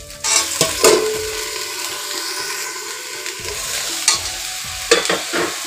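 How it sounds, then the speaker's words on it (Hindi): Vegetables fry in a pan after onions, a soft continuous sizzle broken by sharp scraping strokes of a spoon stirring, close and clear with no talk. "सब्जी को 5 मिनट तक ऐसे ही भून लूँगी इसको भी"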